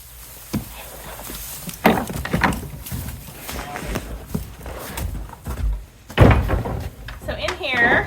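A wooden barn door leading into a goat kid pen thumps and scrapes open with several knocking clunks and a creaking slide, heard close up amid a person talking.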